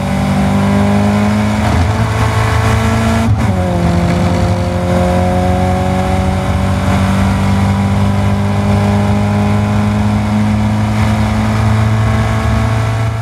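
Caterham Academy race cars scream around the Silverstone circuit, engines loud and close, with sustained revving that drops in pitch as one car passes, then steady high-revving drone throughout.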